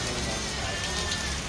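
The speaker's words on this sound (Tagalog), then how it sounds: "Yan, malakas ang ulan." Heavy rain pouring down outdoors near a bird breeding area, a dense, continuous hiss of drops on the roof and ground with no break.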